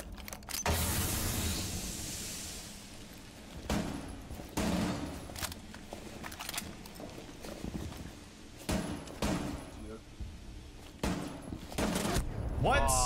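Heavy gunfire in a tactical shooter video game, with loud, sharp blasts arriving in bursts spread across the span over a busy game soundscape.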